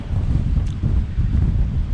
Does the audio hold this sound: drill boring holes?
no